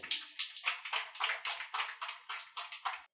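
Audience in a Telugu Christian church service claps in about a dozen sharp, evenly spaced bursts, loud and close, with no talking over the rhythm.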